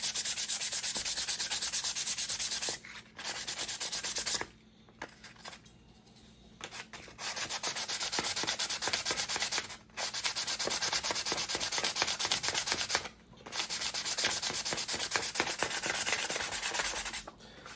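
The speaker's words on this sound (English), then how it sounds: "I'll switch to a 400 grit to really give it a nice smooth surface" Sanding sapele wood by hand with 400 grit sandpaper produces steady close-up rasping strokes in long bursts, separated by short pauses, with no talking.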